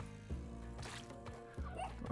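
A dog in the video game Spelunky 2 yips and whimpers a few times over steady background music, with short barks spaced about a second apart.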